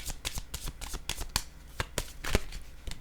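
Tarot-style cards are handled and laid down on a table: a quick series of crisp, close shuffling snaps and soft slaps in an irregular rhythm, with no talking.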